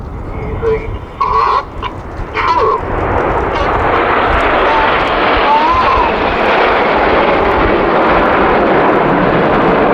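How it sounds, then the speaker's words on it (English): Red Arrows jets flying in Typhoon formation at the Kauhava airshow, a loud, broad jet roar building and holding steady, with a crowd's voices and chatter briefly audible at the start. "Red 1 has called the aircraft into Typhoon formation"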